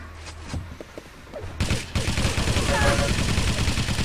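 Rockets and rapid weapon fire burst in an online shooter match, a dense volley of blasts and thuds that erupts after scattered earlier shots, with a commentator talking over it.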